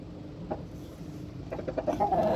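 A rooster and hen pair kept on a rooftop give soft, scattered clucks that grow busier and a little louder toward the end, fairly close with no talking.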